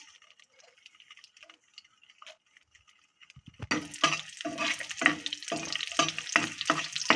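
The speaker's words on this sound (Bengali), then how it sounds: "ফোড়নটা গরম হওয়া অবধি অপেক্ষা করতে হবে দিয়ে দিচ্ছি রসুন দিয়ে দিচ্ছি শুকনো মরিচ" Garlic and dried red chilies hit hot oil for a tempering: quiet ticking at first, then a sudden loud sizzle that swells into vigorous, crackling frying with rhythmic stirring scrapes.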